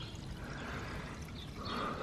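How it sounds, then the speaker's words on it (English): Steady water pouring and trickling into a car radiator's narrow filler opening, a continuous low gurgling wash that swells slightly near the end, close by. "So I can hear the water going in."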